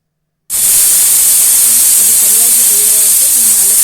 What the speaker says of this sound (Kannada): ಐದು ಬಿಸಿಲ್ನ ಕೂಗಿಸ್